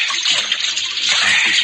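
Water pours steadily into a canteen for a short stretch, a continuous broad hiss and gurgle outdoors with horses nearby, fairly loud and close throughout with no pauses.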